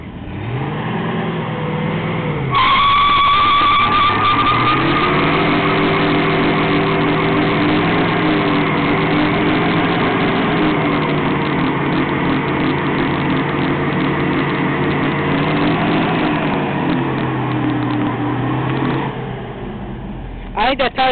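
A 1981 Chevy C20 truck engine revs hard and steadily through a burnout, a loud sustained roar that rises and holds for nearly twenty seconds before easing off, with people talking around it.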